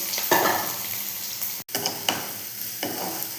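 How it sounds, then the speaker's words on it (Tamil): Sliced onions fry in hot oil in a kadai, giving a close, loud sizzle broken by bursts of crackling and the scrape of stirring. "ஒரு கடாயில் எண்ணெய் ஊற்றிருக்கேன். வெங்காயம் போட்டுக்கலாம்."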